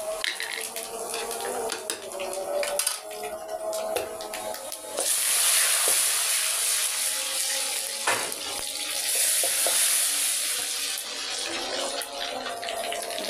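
Panch phoron whole spices sizzle as they hit hot oil for dal, a broad steady hiss that swells and holds loud from the middle onward, with brief clinks early on and no talking.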